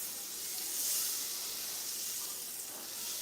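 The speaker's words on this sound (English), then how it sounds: "But it's already sizzling." Soft, continuous sizzling of meatballs frying in a hot pan, a gentle crackling hiss that swells slightly and stays steady.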